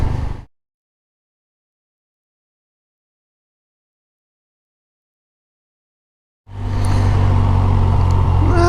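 A Harley-Davidson motorcycle riding through curving neighborhood streets, its engine note loud and steady after a long stretch of near silence.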